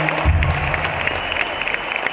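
Loud, dense applause from a concert audience at a live show in Netaji Indoor Stadium, a steady wash of clapping that holds for about two seconds with no voice over it.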